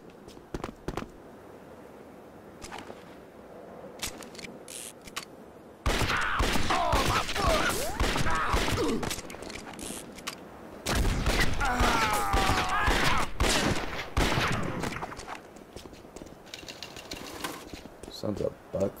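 Bursts of gunfire from the Western shooter game Red Dead Revolver come in two loud, sustained stretches, with scattered single shots between them, while a player talks over the game.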